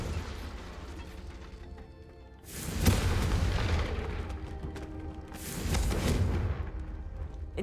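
Confringo spell blasts in Hogwarts Legacy: two loud booming explosions a few seconds apart, each bursting in sharply and rumbling on heavily, over a steady low game background with no voices.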